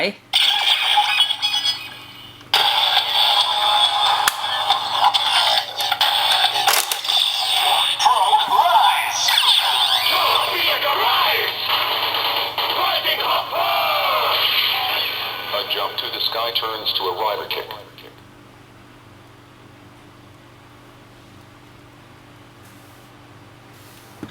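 A Kamen Rider Zero-One Driver toy transformation belt with a Rising Hopper key plays loud electronic sound effects and voiced jingles for about eighteen seconds, then cuts to a quiet hum.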